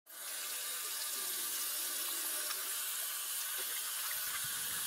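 Water running and splashing steadily as hands are washed, a radio drama sound effect for Macbeth, continuous and fairly close with no voices.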